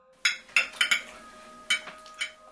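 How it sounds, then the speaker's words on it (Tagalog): Plates and cutlery snatched up in a hurry in a kitchen, a run of sharp clinks and clatters, about six distinct hits spaced unevenly, close and crisp against a quiet background. "nagkumahog ito sa pagkuha ng pinggan at mga kubyertos"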